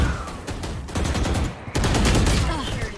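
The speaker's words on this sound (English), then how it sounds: "I fucking shot over his" Rapid, dense bursts of gunfire in the tactical shooter Valorant, with fast automatic volleys, a brief lull, then another loud sustained burst, while a voice talks faintly underneath.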